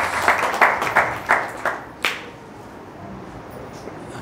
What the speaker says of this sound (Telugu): చప్పట్లు కొడదాం పచ్చండి